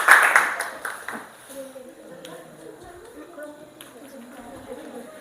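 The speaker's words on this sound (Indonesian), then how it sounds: "Oke, berikan tepuk tangan." Students in a classroom give a short burst of applause after a group discussion, which quickly fades into low chatter and scattered voices.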